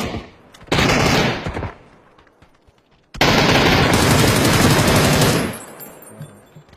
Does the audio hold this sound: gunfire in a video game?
yes